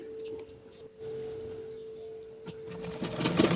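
Sewing machine stitching Punjabi dress pants, a steady mechanical whir with a constant hum running throughout, growing busier and louder near the end, with no talk over it.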